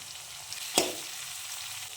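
Green chillies frying in oil in a pan while tomato rice is being made, with onion and curry leaves already in: a soft steady sizzle with one brief sharp crackle or pop partway through.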